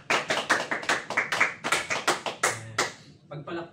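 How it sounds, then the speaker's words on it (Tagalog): A small audience at a motivational talk claps in uneven bursts, sharp close hand claps fading out toward the end. "palakpakan niyo po yung mga sarili"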